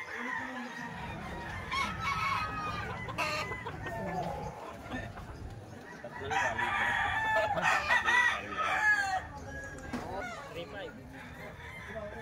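Roosters crow repeatedly amid steady clucking from a group of chickens being offered for sale, with a louder burst of crowing midway; a voice talks briefly underneath.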